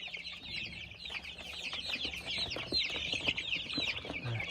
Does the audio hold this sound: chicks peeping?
yes